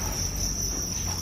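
Field crickets chirp steadily inside rearing boxes on a cricket farm, a continuous high, thin trilling close by with no pauses and no voices.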